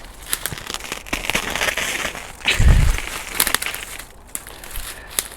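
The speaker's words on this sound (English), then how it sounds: "That's the sound of bramble trying to grab me." Bramble crackling, snapping and snagging on clothing while someone pushes through dense undergrowth, a continuous close rustling with a brief heavy thump partway through.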